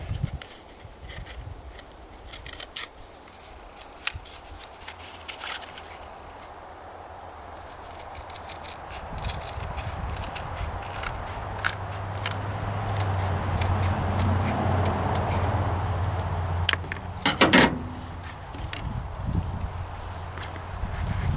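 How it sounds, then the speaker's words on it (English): Rawhide being cut with a knife or shears to make a welt for a knife sheath, giving irregular crisp snips and scraping cuts up close, with quiet handling noise between them. "we're going to cut the welt out of here"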